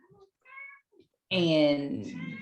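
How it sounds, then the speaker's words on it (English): A house cat lets out a clear, drawn-out meow close to the microphone, preceded by a few faint, brief chirpy sounds in an otherwise quiet room. "Sorry, my cat is in the I background."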